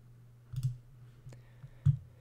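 Mouse clicks while editing a menu, a handful of short, quiet clicks spaced irregularly over a hushed background.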